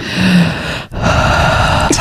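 A person imitates heavy breathing, with two loud, rasping breaths close to the microphone separated by a brief pause.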